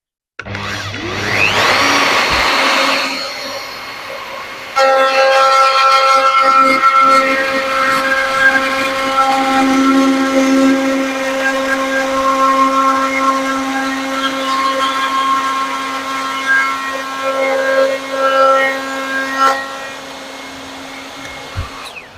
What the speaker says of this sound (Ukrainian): Зараз аспірацію підключити. Все. Поїхали.